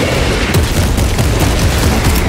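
A loud, dense blast and rumbling burst from a grenade in Warhammer 40K: Space Marine 2 fills the whole stretch with continuous booming and crackling combat noise.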